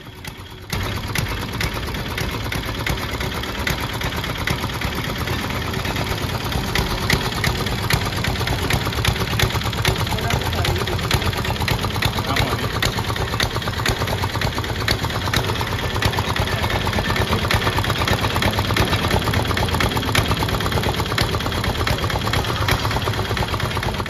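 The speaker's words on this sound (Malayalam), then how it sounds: "ഇത് ഡീസലിൽ വർക്ക് ചെയ്യുന്ന ഒരു മെഷീനാണ് കേട്ടോ ഈ കരിമ്പ് ജ്യൂസ് ഉണ്ടാക്കുന്ന മെഷീൻ" A diesel-powered sugarcane juice machine runs steadily and loudly close by, its engine chugging with a continuous mechanical clatter for the whole stretch, with no talking over it.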